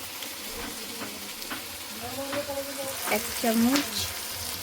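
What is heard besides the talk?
stirring spices sizzling in a pan for chicken curry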